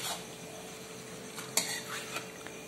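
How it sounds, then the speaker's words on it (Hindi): Marinated chicken curry sautéing in a pan in a home kitchen, a soft, faint sizzle under scattered clinks and scrapes of a spoon stirring against the metal. "लेकिन पहले इसे अच्छे से भून लेते हैं।"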